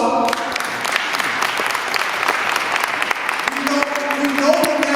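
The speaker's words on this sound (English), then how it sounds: "Give him the applause." A conference audience at a Chicago gun violence prevention event claps in a brief, lively burst of applause, with a voice rising over the clapping near the end.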